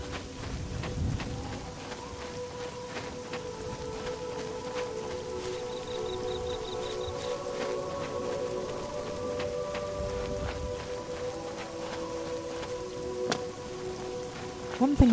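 Steady rain falls in The Elder Scrolls IV: Oblivion, a constant soft patter on surfaces with faint low rumbles and game tones underneath, continuing evenly throughout.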